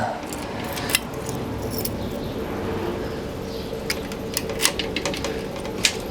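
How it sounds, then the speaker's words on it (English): Metal keys jangle and clink in scattered bursts on a multifamily property site visit as someone sorts through a full ring to find the right one, with sharp metallic taps standing out over steady background noise. "How good is this when you have to go through all the keys to find the right one?"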